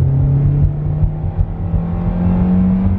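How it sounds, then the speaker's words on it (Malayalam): A Hyundai Elantra engine in sport mode revs up with a steady, loud low drone and rising hum that holds throughout, heard from inside the car with no talking. "സ്പോർട്ട് മോഡിൽ എഞ്ചിൻ RPM കൂടിയിട്ട് വാഹനം നല്ല റൈസ് ആവുന്നതിന്റെ ഒരു സൗണ്ട് വരുന്നുണ്ട്"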